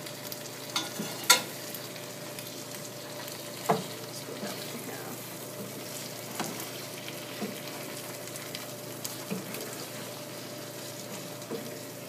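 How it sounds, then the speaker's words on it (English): Butternut squash, sweet onions, red peppers, roasted tomatoes and garlic are stirred in a pan for risotto, giving a soft steady sizzle with occasional sharp scrapes and clinks of the utensil. "we have the butternut squash, we have the sweet onions, the red peppers, the roasted tomatoes, and garlic, and we're just stirring that around"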